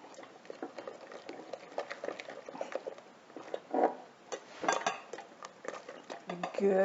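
A whisk scraping and clinking against a pot while stirring a thickening souffle mixture, a steady patter of close metallic taps and swishes with a few louder clanks toward the end.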